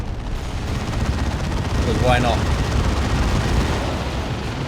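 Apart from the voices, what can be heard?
artillery barrage explosions in the video game Dawn of War 2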